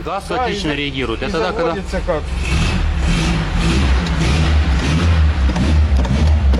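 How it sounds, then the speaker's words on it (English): A powerful gas-powered engine revs loudly and steadily at close range, holding a strong low rumble throughout, with voices talking over it at the start. "I will tell you that the engine is very powerful"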